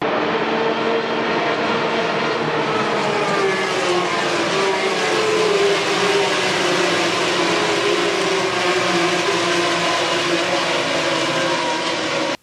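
Formula 3 race cars screaming past at Raidillon on the Spa circuit, a loud continuous high-revving engine roar that sustains without a break, with overlapping cars and gear shifts, close by and heard alone.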